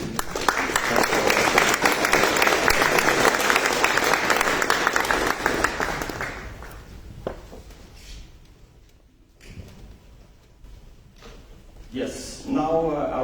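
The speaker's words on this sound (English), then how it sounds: "I would like to give a hand of applause for this." A large audience applauds at a summit in the Danish Parliament's Fællessalen, dense clapping filling the room for about six seconds before thinning out, followed by quieter room noise and a voice speaking near the end.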